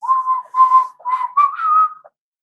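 A person whistles a short melodic phrase of several sustained notes, loud and close, alone without talk, during a Terra Invicta strategy game session.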